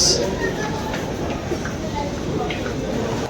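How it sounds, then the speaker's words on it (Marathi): Loud rumble of a train rolling into Borivali station, with rail clatter and a brief high squeal at the start; voices murmur faintly in the background. "स्टेशनला पोहोचलो आहे आता बोरिवली स्टेशनला ट्रेन लागले"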